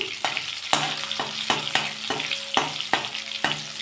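Nigella seeds and a split dried red chilli frying in hot oil in a pan, with a steady sizzle broken by regular spatula strokes scraping and tapping against the pan.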